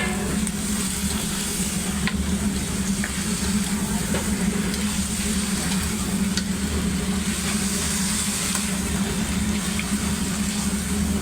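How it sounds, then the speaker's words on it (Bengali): Meat sizzling in hot mustard oil in a home kitchen pan, a steady crackling hiss that holds evenly throughout with no pauses. "সরিষার তেল দিয়ে আজকে রান্না করছে। এখন এই যে মামি হচ্ছে মাংসগুলো দিয়ে দিল"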